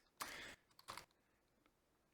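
A computer keyboard being typed on in two quick, faint bursts of clicking, the second shorter than the first, in an otherwise quiet room with no one talking.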